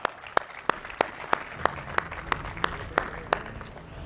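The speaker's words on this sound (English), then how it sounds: "A huge round of applause" Sparse, evenly spaced claps ring out in a steady rhythm, like a small round of applause in a reverberant room at a football awards ceremony.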